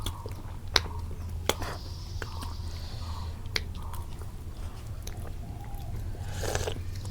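Close, wet chewing and biting while eating egg khichuri with lemon, sharp irregular clicks and squishes over several seconds against a low steady hum.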